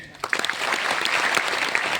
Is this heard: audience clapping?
yes